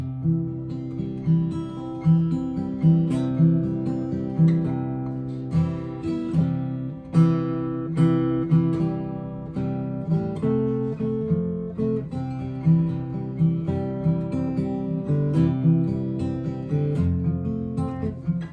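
A slow, gentle rendition of the hymn O Holy Night played on guitar, steady plucked notes ringing together with soft bass, continuous throughout with no talking.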